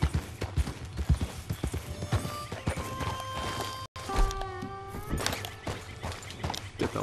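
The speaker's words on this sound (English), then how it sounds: "That's got to be the horse down there by the water." Horse hooves clip-clopping in Red Dead Redemption 2, a steady run of close hoofbeats over game ambience with sustained musical tones, one brief dropout midway.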